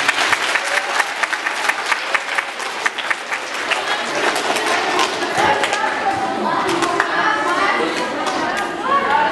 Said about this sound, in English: These guys, round of applause.